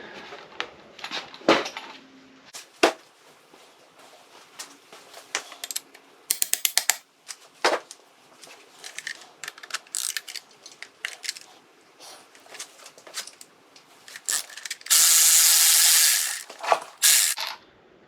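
A ratchet with a 15 socket works a nut on a Fiat 124 engine block, giving bursts of fast clicking and metallic taps spread across the stretch, close and fairly loud with short gaps between.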